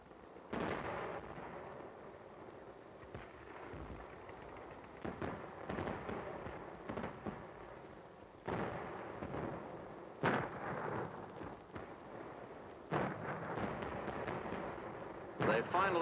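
Infantry fighting in Korea in winter brings repeated booming gunfire and artillery blasts, some close and sharp, others duller and farther off, in irregular bursts over a rumbling background.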